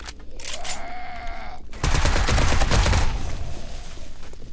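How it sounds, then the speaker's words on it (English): Enemy gunfire in the survival video game 7 Days to Die, a burst of rapid dense shots erupting after a few sharper single pops, continuing loudly to the end. "Keep moving while they're shooting at me."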